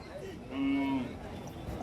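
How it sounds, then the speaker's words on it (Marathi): A cow moos once, a short, low, close call, with faint village background sound around it. "गाय दिसली आहे गाय"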